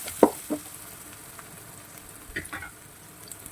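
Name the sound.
onions and spices frying in pan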